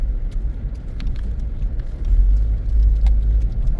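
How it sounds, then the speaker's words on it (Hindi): Inside a car driving fast on a muddy, potholed road near Rishikesh, a loud low engine and road rumble swells and surges, with scattered rattles and knocks from bumps. "गाड़ी भाग रही है।"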